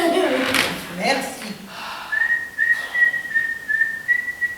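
A person whistles a casual, wandering tune, steady and close, coming in after a few seconds of talk and continuing to the end.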